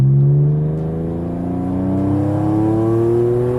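A Porsche 911 engine revs hard through high RPM, a loud, close, smooth rising howl with stacked harmonics climbing steadily in pitch, heard alone without talk.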